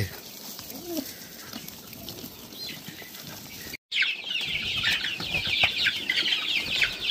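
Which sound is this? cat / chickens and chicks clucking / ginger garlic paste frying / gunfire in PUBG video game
chickens and chicks clucking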